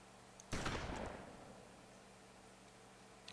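A single loud blast from an IzH 43 shotgun in DayZ, sharp and booming with a decaying tail of echo, followed by quiet and a faint click near the end.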